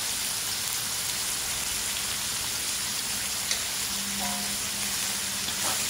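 Bean sprouts frying in a pan, a steady broadband sizzle filling the whole clip at moderate level, with a faint clink near the middle and no talk.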